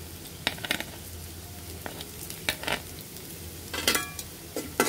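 Hyacinth beans (mou shim) fry in a pan with a pinch of black cumin, a low steady sizzle broken by several sharp scraping strokes of a spatula against the pan, close and moderately quiet.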